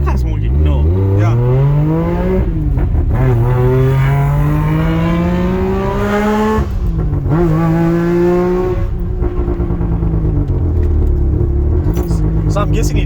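A Mazda RX8 rotary engine revs loudly at night and close by, rising and falling through several long, steady sweeps with a buzzy, even tone.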